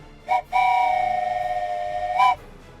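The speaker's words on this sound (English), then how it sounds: "let's get a whistle, and then we'll get over in the game and get going" Train whistle in the Trains Railroad Simulator video game, a short toot followed by a sustained steady blast of nearly two seconds, loud and clear with no talk over it.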